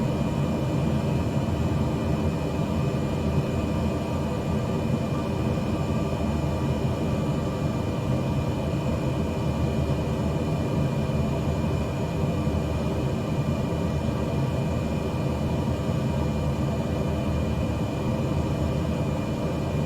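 Airliner engines drone on final approach at night in Microsoft Flight Simulator, a steady low hum with faint tonal whine, continuous and even at moderate loudness with no talk.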